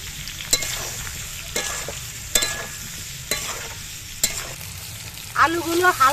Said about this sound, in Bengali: আলুগুলো ভাজার সময় একটু নুন দিয়ে দিচ্ছি।